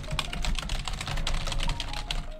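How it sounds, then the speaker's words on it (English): Rapid, dense clatter of keys on a computer keyboard, typed very fast in a steady near stream of clicks with no talking. "this is very difficult when you're typing this fast"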